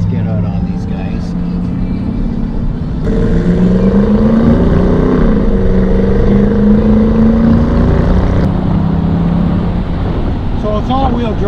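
A 475-horsepower all-wheel-drive car drives along with a steady engine drone and rising, shifting tones as it accelerates, loud and close, mixed with wind buffeting.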